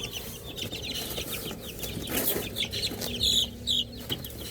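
Chicks being moved into a new pen cluck and peep quietly and steadily at close range, with a few brighter chirps rising near the end.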